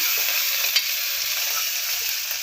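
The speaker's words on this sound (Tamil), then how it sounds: "எல்லாம் நல்லா வதக்கிடலாம்" Mint and coriander leaves sautéing in hot oil for a mushroom cooker biryani, a steady close sizzling hiss with faint stirring scrapes throughout and no voices.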